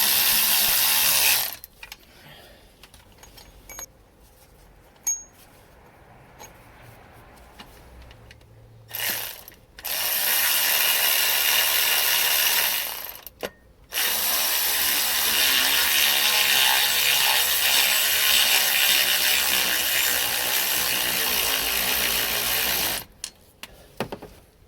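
A hand ratchet wrench works on oil pump bolts of a Ford Fiesta 1.0 EcoBoost engine, giving long stretches of fast, dense clicking ratcheting close by, broken by a few short pauses.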